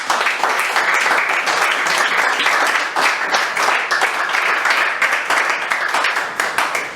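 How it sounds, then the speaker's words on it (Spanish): Sustained applause fills a church congregation, dense and loud clapping from many hands carrying on steadily from start to finish after a pastor's call during a sermon on revival. "¿Quién le da un aplauso al Señor?"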